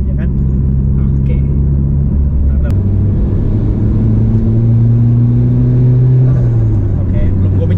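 A Mitsubishi Lancer Evo VII engine revs at about quarter throttle, loud and close, with a deep rumble that holds steady, then climbs in pitch and eases back.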